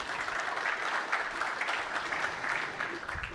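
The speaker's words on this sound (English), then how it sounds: "And a big hand of applause, please." An audience at a conference forum breaks into applause, a dense, continuous clapping that fills the room at a steady level.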